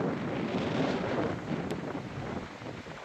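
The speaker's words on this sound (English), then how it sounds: "Yeah, it's really windy" Strong wind buffets the microphone in a steady, roaring rush with no voices, outdoors in Honduras.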